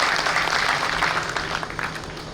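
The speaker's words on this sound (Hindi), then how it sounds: "ताली बजाओ, शिक्षकों का अभिनंदन।" Audience in a hall applauding teachers, a steady wash of many hands clapping that holds for the whole stretch and slowly fades a little toward the end.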